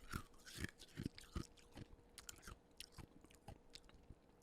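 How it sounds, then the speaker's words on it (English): Someone chewing a raw carrot close to the microphone, a quick series of crisp crunching bites in an uneven rhythm, loudest at first and then settling into softer grinding chews, with no talking. "that's me chewing on a carrot like a hamster"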